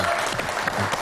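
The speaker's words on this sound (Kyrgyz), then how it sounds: "Кол чаап кое бериңиздер мына." Studio audience applause at a Kyrgyz television show, a steady dense wash of clapping from many hands, loud and close, with no voices over it.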